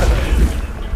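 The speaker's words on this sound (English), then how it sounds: "Big ass explosion." A loud, close, low-frequency boom sounds from the start and rolls into a rumbling decay across the one-second span, with no clear talk.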